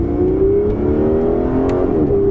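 Aston Martin Vanquish engine pulling under throttle, a loud, close, steady mechanical drone whose pitch climbs and holds through the acceleration, with no talk over it.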